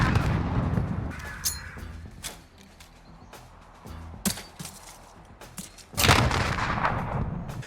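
A thrown grenade detonating behind a dumpster in an alleyway in a first-person shooter on the map Crash, heard as several sharp blasts and thumps, with a heavy, sustained boom near the end.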